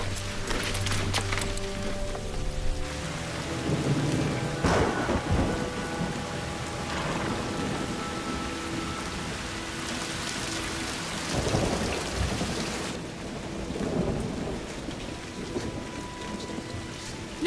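Heavy rain pours steadily in a thunderstorm, with rolling thunder rumbling several times over the downpour; no voices.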